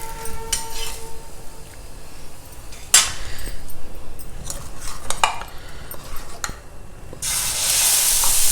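Millet dosa cooking on a hot pan, with soft sizzling and frying under intermittent scraping and clinks of a utensil against the pan, ending in a louder burst of sizzle.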